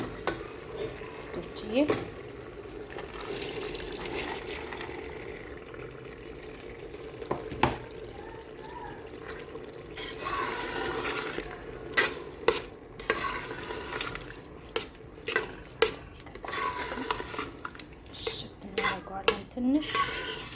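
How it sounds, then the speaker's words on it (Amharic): Lentils sizzle and fry in a pot while a spoon stirs and scrapes against the metal, giving a steady crackle with clinks throughout and a brief spoken word. "አሁን ምስራችንን እንጨምራለን።"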